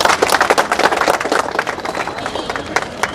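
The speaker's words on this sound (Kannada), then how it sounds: "ಜೋರಾಗಿ ಚಪ್ಪಾಳೆ ಮೂಲಕ ಧನ್ಯವಾದ" Loud, dense clapping from an audience at a police department blood donation event, sustained and rhythmic with scattered sharper claps close by, thinning slightly toward the end.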